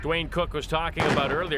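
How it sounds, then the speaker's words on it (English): Someone talks up close while a sharp gunshot cracks in the background at a retriever field trial, partly masked by his voice. "You could hear the shot in the background."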